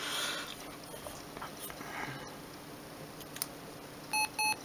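A Siemens CX75 mobile phone powers on with its startup tone: a few short, bright electronic beeps in quick succession near the end, following a quiet stretch of faint background hiss.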